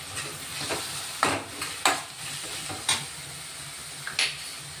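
Ground garlic, ginger and chili paste frying in a pan for homestyle prawn fry: a soft, steady sizzle broken by several sharp spatula scrapes and clinks at irregular intervals, close and without talk.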